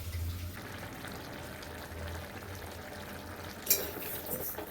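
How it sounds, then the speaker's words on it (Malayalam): Beef simmering in a covered pot on the stove, a quiet continuous bubbling and sizzling with a low hum, plus a brief metallic clink near the end. "ബീഫ് തിളച്ചപ്പോൾ വെള്ളം കണ്ട"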